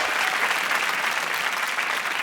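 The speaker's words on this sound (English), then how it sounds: "Give him a round of applause." A TV panel show studio audience claps and applauds, a dense, steady wash of many hands, loud and sustained throughout.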